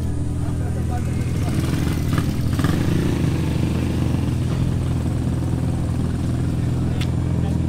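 Car engine and muffler exhaust give a steady, loud, low rumble throughout, close by, with a voice speaking faintly over the drone.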